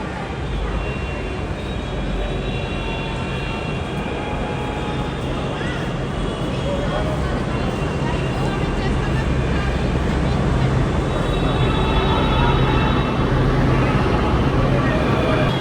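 Jaipur metro train with overhead power supply, heard as a steady, loud broadband rumble and roar that swells slightly near the end, with no talk over it.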